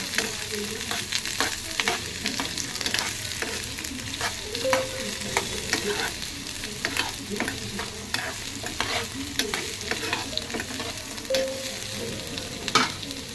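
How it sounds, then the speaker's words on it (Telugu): Onions frying in oil for a Hyderabadi-style fish curry give a continuous close sizzle, while a spoon scrapes and taps the pan in frequent irregular strokes throughout, with no talking. "ఆనియన్స్ వేసుకుందాం. వేసుకుని ఒకసారి బాగా కలుపుకుందాం"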